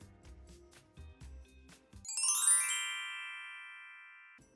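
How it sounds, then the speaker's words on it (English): A doorbell rings after a few low knocks or thumps, its bright chime swelling and then slowly fading out, fairly quiet and with no talking. "suddenly, the doorbell rang"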